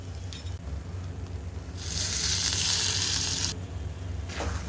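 Dried red chillies fry in hot oil for tomato thokku, giving a near, steady crackling sizzle that swells loud for a few seconds in the middle and then cuts off, with a low background hum throughout.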